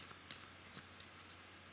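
Tarot cards being shuffled by hand: a run of soft, quick riffling flicks and taps, fairly close and quiet, with no talking.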